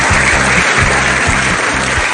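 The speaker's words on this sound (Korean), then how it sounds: "참가자 전원들이 기립박수로 환영했습니다" Conference participants give a standing ovation, a dense, steady roar of clapping from a large crowd that runs loud and unbroken throughout.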